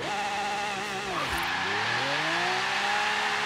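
A car in the racing game Forza Horizon 3 brakes hard, its engine tone dropping sharply while the tires squeal, then the engine revs back up in a continuous close roar.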